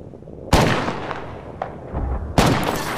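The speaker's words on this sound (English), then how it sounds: "Shots fired at me." Gunfire in the battle-royale shooter Apex Legends: three sharp, loud shots at roughly half-second, one-and-a-half and two-and-a-half seconds, each with a booming tail, over a low rumbling background.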